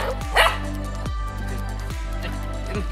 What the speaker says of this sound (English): Oh my god, there's so many puppies.